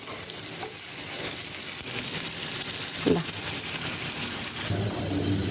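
Elephant foot yam frying in a pan makes a loud, dense, continuous sizzle up close, with a faint low thump partway through and brief tonal background sounds near the end.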